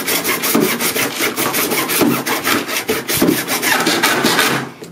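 A handsaw rasps back and forth in rapid, even strokes through the hard casing of a Freebox internet box, loud and close, with no voices.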